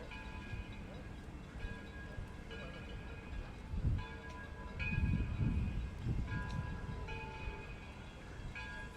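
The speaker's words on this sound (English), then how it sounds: "I hear a train coming." A train approaches near the Henry Ford Museum in Detroit, a low rumble that swells and thickens midway, with faint metallic tones over steady background noise.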